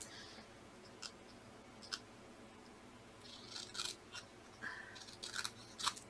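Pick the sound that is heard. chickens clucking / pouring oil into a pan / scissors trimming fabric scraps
scissors trimming fabric scraps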